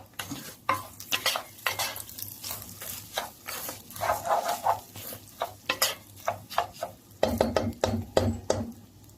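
A spoon scrapes and stirs rice in a cooking pot, with repeated irregular clatters and scrapes close by over a faint sizzle, with no talking.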